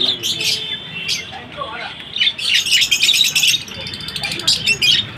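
Pet budgerigars chirp and squawk in a rapid, busy stream of high twittering calls, close by, with a person talking quietly underneath at times.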